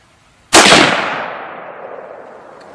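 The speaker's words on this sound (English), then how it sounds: "Now we'll do our 5-shot group." A single .243 Win rifle shot with Remington Core-Lokt Tipped ammunition from a Savage rifle cracks sharply outdoors, then a long echoing decay rolls away over about two seconds; only one shot of the group is heard.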